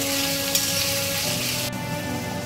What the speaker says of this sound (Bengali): টমেটোটা আমি একটুখানি এখানে ভেজে নেব তেলের মধ্যে